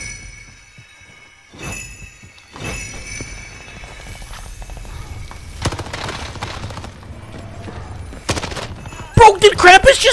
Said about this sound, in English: Dude, he's shooting Krampus with the anti-air!